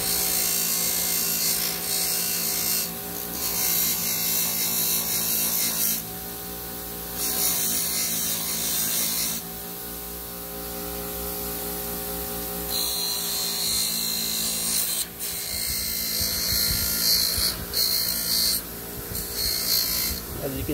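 Schwinn Stingray bicycle parts are ground and polished to remove scratches, giving a steady, close abrasive whir with rubbing texture and small shifts in pitch across the whole stretch, fairly quiet and continuous.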